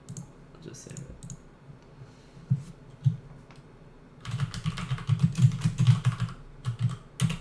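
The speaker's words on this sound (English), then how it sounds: "I have very much trained my body to hit Control S every single time I stop typing." Fingers tap quickly on a computer keyboard, starting as sparse clicks and swelling into a dense, steady burst of keystrokes near the end, heard up close while a person talks over it.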